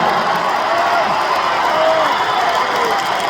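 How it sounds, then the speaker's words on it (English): A crowd at a Giants Live strongman event in Glasgow, Scotland, gives a loud, steady roar of cheering and noise that fills the whole stretch without a break. "And listen to the crowd, Terry, for the ball here in Scotland."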